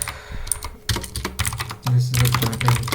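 Fast typing on a computer keyboard, close and clear, with dense irregular key clatter and a few louder strikes.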